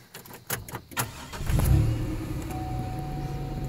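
A 2005 Pontiac Grand Prix GTP engine cranks and catches, then revs up and settles into a steady idle, loud and close after a few clicks and knocks.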